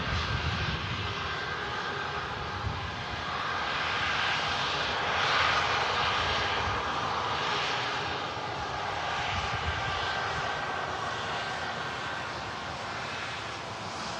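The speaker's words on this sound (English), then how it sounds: "The lighting looking pretty nice on this Ryanair 737 MAX A200. Just taxiing past us here at the Visitor Park, Manchester Airport" A Ryanair Boeing 737 MAX 200 taxis past at Manchester Airport, its engines producing a steady, broad roar with a slowly swelling whine that holds for the whole stretch at moderate distance.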